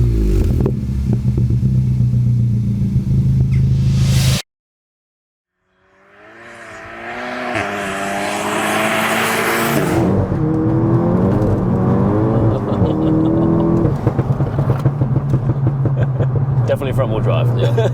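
A Cupra 290 hatchback with a hybrid turbo conversion, front-wheel drive, idles loudly, falls silent briefly, then starts and revs up into a rising engine drone with shifting tones as it pulls away.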